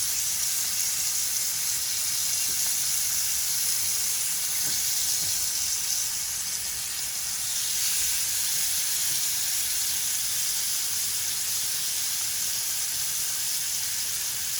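Lamb chops sizzle steadily on a grill, a continuous hissing fry with faint pops and crackles, loud and close, with no talking.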